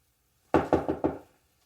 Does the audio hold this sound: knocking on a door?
yes